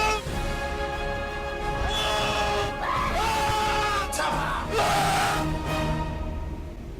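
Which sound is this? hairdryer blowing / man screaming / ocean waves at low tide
man screaming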